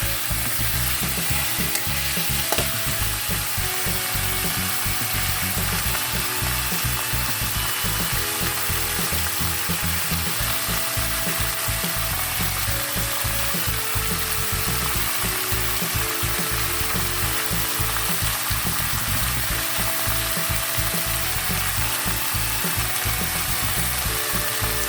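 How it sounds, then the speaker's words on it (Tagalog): Steady, loud sizzling of chicken frying in a pan for adobo, with constant crackle and scraping stir sounds throughout and no talking. "haluin lang natin. Hanggang mag-golden brown."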